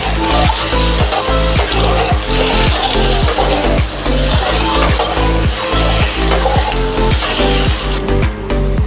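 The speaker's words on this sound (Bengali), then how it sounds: "নুন হলুদ মাখিয়ে নিয়ে একটুখানি লাল লাল করে হালকা ভেজে নেব" Whole eggs coated in salt and turmeric fry in hot oil, giving a loud, continuous close-up sizzle and crackle with faint rhythmic popping throughout.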